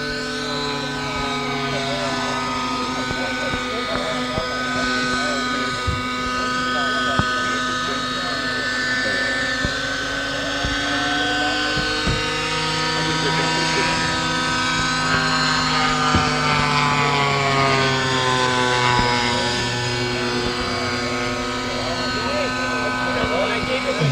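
Radio-controlled model helicopter with blinking side lights performing aerobatic maneuvers at a model airplane fun fly, its steady high-pitched rotor and engine whine rising and falling continuously at moderate distance, with people talking nearby.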